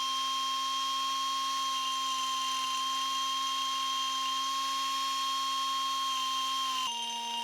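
Grinding metal off the underside of an old piston from a Zetor 25 tractor, a steady high-pitched whine that holds constant and loud throughout, then shifts pitch abruptly near the end.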